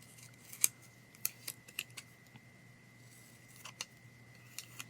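Scissors trim the printed offset from a paper page, several crisp snips spaced irregularly over a quiet room hum, close and fairly faint.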